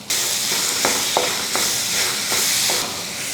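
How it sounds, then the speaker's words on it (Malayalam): Chopped ripe plantain sizzling in hot ghee in a pan, a steady bright frying hiss with a few soft stirring taps, close and alone with no voices. "1 ടീസ്പൂൺ നെയ്യ് ചൂടാകുമ്പോൾ ഈ അരിഞ്ഞു വെച്ച ഏത്തപ്പഴം ഇങ്ങോട്ട് ചേർക്കുക."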